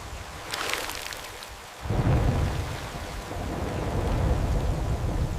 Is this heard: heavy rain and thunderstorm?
yes